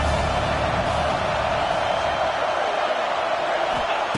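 Steady roar of a stadium crowd at a Penn State versus Georgia college football game, dense and continuous throughout, loud and broad, with no single voice standing out.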